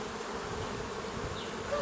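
Honey bees buzz in a dense, steady drone at an open beehive during a brood check, close and continuous with no pauses.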